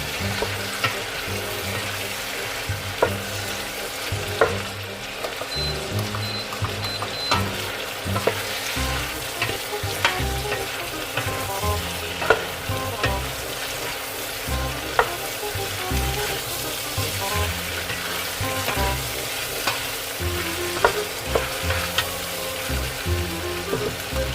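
Pork sizzles and spits in a hot pan while a utensil stirs it, giving a steady frying hiss broken by regular scraping and clacking strokes against the pan, close and continuous for a long stretch.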